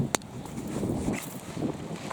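Wind blustering against the microphone in a steady low rumble, with a brief sharp knock near the start.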